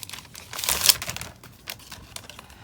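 Scissors cutting through craft paper for handmade Happy Planner skinny mini half-sheet notes, a brief close cluster of crisp snips and crinkles that peaks early, then lighter rustling with no talk.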